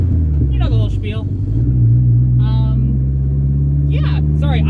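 A 1986 Shelby Omni making over 300 wheel horsepower drives along with a steady, loud low engine drone and rumble throughout, while someone talks intermittently over it from inside the car.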